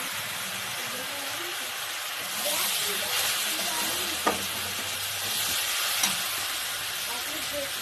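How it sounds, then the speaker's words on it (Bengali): Steady hiss of jujube pickle frying in a pan, with occasional scraping clinks of a spoon stirring through it. "কুলের আচারটা নেড়ে নেওয়া হচ্ছে।"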